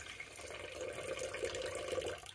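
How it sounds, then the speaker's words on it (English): Water poured to top up a tarantula's water dish, a steady close trickle of liquid filling a small container for a couple of seconds, with no voices. "fill the water dish up, all good"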